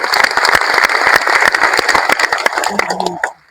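Brisk clapping from a seminar audience, loud and scattered with sharp individual claps, tapering off and stopping near the end as a voice begins.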